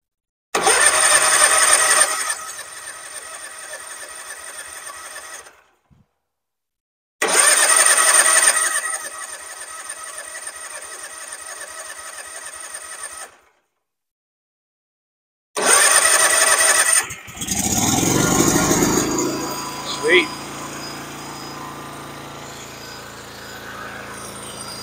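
A DR field and brush mower engine, unused for two years and set to full choke, is pulled over twice, runs briefly each time with a steady loud drone, then catches and keeps running as the tone changes and settles into idle.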